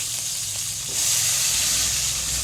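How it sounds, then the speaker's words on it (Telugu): Sliced onions dropped into hot oil with freshly ground masala, sizzling and hissing steadily in a pan, the frying growing louder after about a second and then continuing as a bright, close crackle. "ఇందులోనే మనము ఉల్లిగడ్డలు వేసేసుకుందాం"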